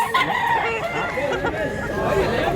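A Gelmor Hatch rooster crows, its drawn-out, strained call rising and falling amid nearby people chatting in a busy outdoor setting.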